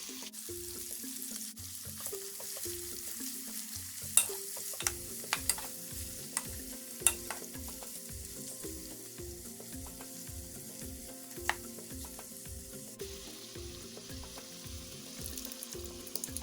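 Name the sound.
onions, garlic and ginger frying in a pan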